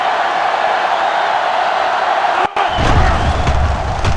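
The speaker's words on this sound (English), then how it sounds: "They're really struggling now as this crowd is going absolutely insane." A stadium crowd roars in the NCAA Football 07 video game, a loud, continuous wash of cheering broken by a brief dropout and a dull thump midway.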